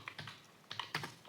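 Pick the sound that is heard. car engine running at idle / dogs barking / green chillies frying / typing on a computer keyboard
typing on a computer keyboard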